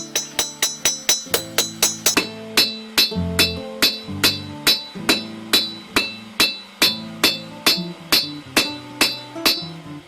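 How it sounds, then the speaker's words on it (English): A hammer forges the bevels of a Finnish puukko knife blade, ringing metallic strikes in a fast, even rhythm of about two per second, each sharp and close, with no voices. "now we're gonna forge the bevels of the blade, making the edge thinner than the spine"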